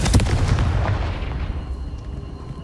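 A Confringo fire spell blast in Hogwarts Legacy: one loud, booming explosion up front that rumbles and fades out over a couple of seconds.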